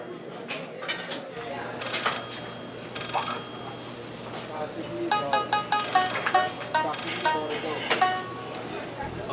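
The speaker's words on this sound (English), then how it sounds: "There, it's ringing." A telephone rings in short, repeated bursts of bright electronic trills. A voice and other noises run underneath, and the ringing grows denser toward the end.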